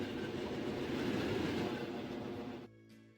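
Passenger train in a train simulation game running steadily with a dense rumbling roar and rail clatter, then cutting off abruptly to near silence with a faint tonal hum.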